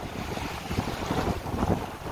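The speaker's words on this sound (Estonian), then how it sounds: "Tuulekest 7–8 meetrit, nii nagu ilmateade ütles" Wind roaring steadily across a sailboat at sea in waves of over a metre, a broad continuous rush with buffeting on the microphone, loud and close, with no voices.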